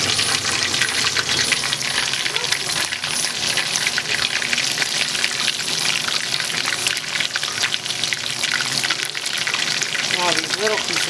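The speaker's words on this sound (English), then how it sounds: "these pieces right here that I'm taking out have been frying for 5 minutes" Chicken pieces deep fry in hot oil, a loud, dense, continuous sizzle and crackle close by, with pieces being moved and a person talking over it.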